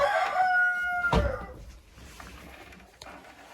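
A rooster-like call with clear harmonic tones at the start, then a sharp burst, followed by softer scattered noises from older hens in a quiet chicken coop.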